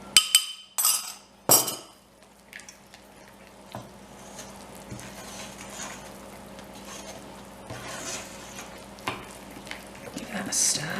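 Gingerbread mixture with ginger thickening in a pan as it is stirred, with a few sharp clinks up front and then a low steady bubbling and scraping, no voices heard.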